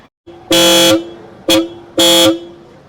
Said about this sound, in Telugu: ఆర్న్ చూసారు కదా రూట్స్ ఆర్న్ అయితే వేసారనమాట